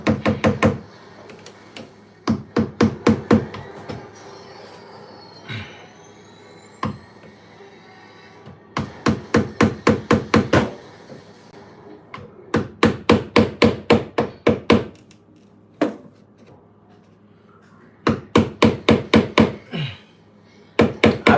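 Bursts of rapid hammer blows ring out during home repair work in a tight space, quick runs of sharp knocks separated by short pauses, with occasional scrapes and light taps between.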